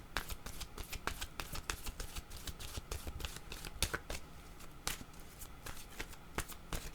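Oracle cards shuffled by hand, a steady run of crisp riffling and tapping strikes at close range, moderately quiet with no talking.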